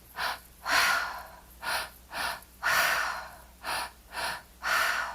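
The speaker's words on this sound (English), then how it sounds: "Letting the breath flow through" Deep, audible breaths during guided breathwork, eight strong airy inhales and exhales in a steady rhythm, close and breathy with short pauses between each.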